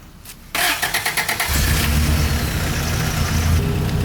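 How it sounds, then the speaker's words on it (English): A truck engine turns over with a quick rhythmic series of starter cranks, fires up and settles into a loud, steady rumbling idle, close by. "We're gonna turn the truck on"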